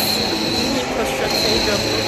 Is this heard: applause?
no